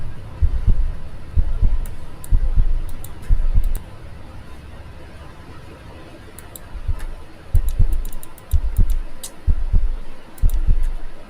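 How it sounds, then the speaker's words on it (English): A fast heartbeat in a FNAF horror video game thumps in low, paired beats at a quick, steady rhythm. Faint high ticks are scattered above it, and the beats swell and fade slightly over time. "What the hell is my heart beating so fast for, bro?"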